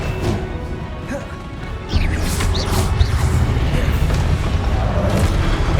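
A Confringo blasting spell in Hogwarts Legacy goes off as a sudden explosive crash about two seconds in, followed by a sustained rumbling roar under a busy fight with whooshing effects.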